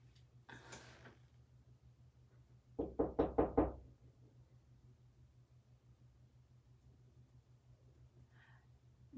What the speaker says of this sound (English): when you hear me knock on this wall